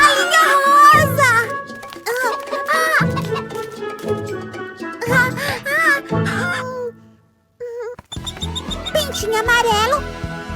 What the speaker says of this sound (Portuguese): Galinha rosa!